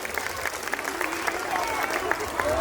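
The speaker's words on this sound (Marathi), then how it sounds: "जोरदार टाळ्या झाल्या पाहिजेत त्यांच्यासाठी." An audience applauding a dance performance at a ShivJayanti school celebration, steady crowd clapping that swells toward the end, heard from a moderate distance in a large space.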